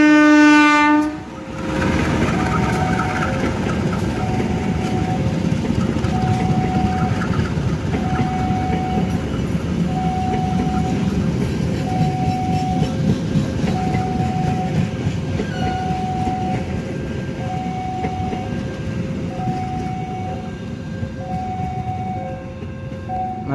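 A train hauled by locomotive CC2039 pulls into Madiun station, opening with a loud horn blast, then a steady rumble of rolling wagons with rhythmic clicking and faint repeated tones over the wheel noise.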